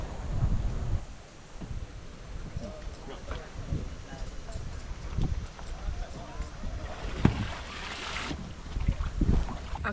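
Small rental boat out on Lake Jocassee, its motor and water noise rumbling steadily with wind buffeting the microphone, while people talk over it throughout.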